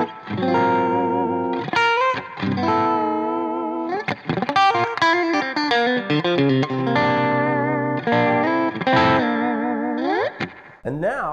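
A Fender Custom Shop Empire 67 Super Strat HSH with Floyd Rose plays sustained notes and chords in a bright, overdriven tone, separated by short pauses, loud and close.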